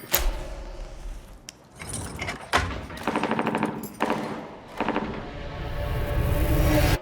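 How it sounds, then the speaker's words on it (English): Several bursts of rapid gunfire crackle in quick volleys, loud and close, separated by short pauses, with a rumbling background throughout. "Were those gunshots?"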